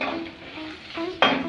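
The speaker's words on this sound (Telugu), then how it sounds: "తాలింపు మంచిగా వేగిన తర్వాత" Tempering spices sizzle in a hot pan for a yogurt chutney, with a soft steady fry, light scraping and clinks of a utensil, and a louder hiss near the end.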